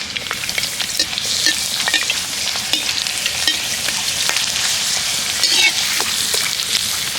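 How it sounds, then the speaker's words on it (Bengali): Sago papad frying in hot white oil in a wok, with a loud, close, continuous sizzle and scattered crackling pops throughout, no voices. "তো একটা পাঁপড় আমি কড়াইতে দিয়ে দিচ্ছি, দেওয়ার সাথে সাথে দেখুন কত সুন্দরভাবে ভাজা হচ্ছে।"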